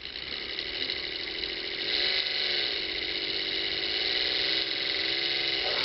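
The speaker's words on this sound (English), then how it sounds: "you actually can see how a motor works, a brushed DC motor" A small brushed DC motor running steadily, a high buzzing whine with a gritty, ratcheting texture from its arcing brush, close and alone.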